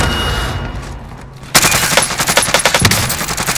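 Call of Duty gunfire bursting in after a quieter stretch, rapid automatic shots rattling loudly and close in uneven volleys for the final two seconds.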